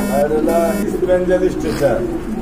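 A female pigeon coos from the background among a pair of fancy pigeons, the soft throaty calls partly masked by nearby talk.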